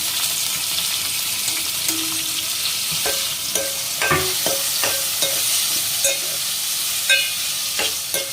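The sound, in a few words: frying chopped tomatoes in a pan for brinjal curry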